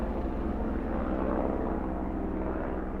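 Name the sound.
helicopter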